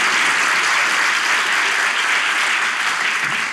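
Studio audience applause on a comedy talk show, dense and loud clapping sustained evenly throughout.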